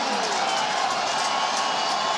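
A Virginia football stadium crowd roars steadily, a dense sustained cheer urging the defense on for one more stop, loud and unbroken throughout.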